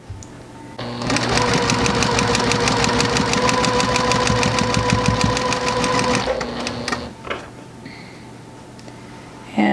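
A sewing machine stitching quilt block pieces runs in one fast, steady whirring burst for about five seconds, then stops, followed by quiet handling of fabric.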